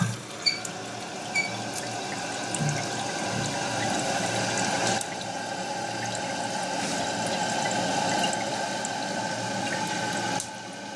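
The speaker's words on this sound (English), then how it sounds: "So now we're going to turn on the water." Water runs steadily into a toilet tank after a new flapper is fitted, a continuous hiss and trickle with a few faint knocks at the start, holding at an even level throughout.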